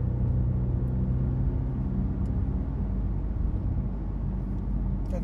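Audi RS7 Performance engine and exhaust in dynamic mode, a deep continuous rumble heard from inside the car while driving, steady and fairly loud, with faint small pops near the end.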